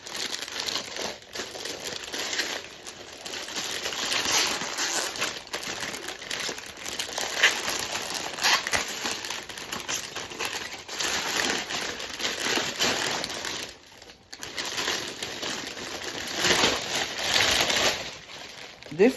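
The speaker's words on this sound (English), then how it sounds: "I'm going to get this bag opened up." A plastic bag is torn and opened by gloved hands while a dialysis batch is prepared, giving close, continuous crinkling and rustling with brief pauses.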